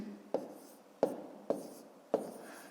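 Digits for a multiplication problem being written with a pen on paper: four short, faint scratching strokes at a steady pace, quiet and close, with no talking.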